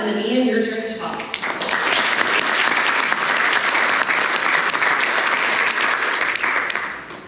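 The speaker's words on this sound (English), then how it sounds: "Round of applause" An awards gala audience breaks into a round of applause, dense and sustained clapping that swells after a moment of talk and holds steady to the end.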